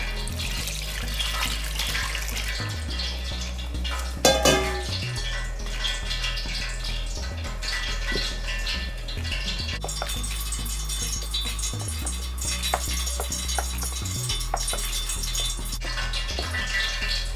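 Water runs and splashes continuously into a container of ground dal mixture, loud and close, with a brief clatter partway through and no voices.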